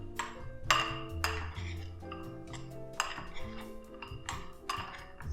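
A spoon scrapes and clinks against a bowl while a chocolate mixture for vegan Ferrero Rocher is stirred, giving a string of close, irregular metallic taps and rattles with quiet gaps between them.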